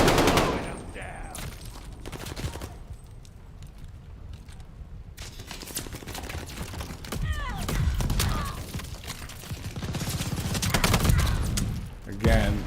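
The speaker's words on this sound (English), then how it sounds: "Again, right into someone's gunfire" Bursts of gunfire in the Call of Duty Vanguard video game crack in irregular clusters over about thirteen seconds, mixed with thuds and mechanical clatter, with voices talking in between.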